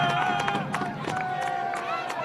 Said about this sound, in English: nice and vocal crowd here